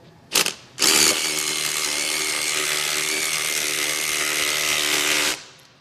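A DEWALT impact driver sets a one-piece screw bolt anchor: a brief burst, a pause, then about four seconds of loud, continuous rattling hammering up close before stopping.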